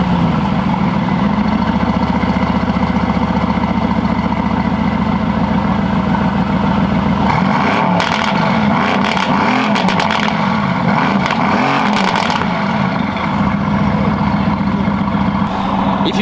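A Mercedes-AMG GT S engine idles with a steady deep rumble, then is revved hard several times in the middle, with rising and falling bursts, before settling back to idle; loud, close and without talk.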